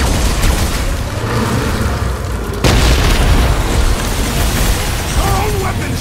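A bomb goes off in the Guardians of the Galaxy video game, a loud broadband boom bursting out midway through over a dense, rumbling action soundtrack, with character voices around it.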